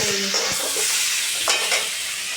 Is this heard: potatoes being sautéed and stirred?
yes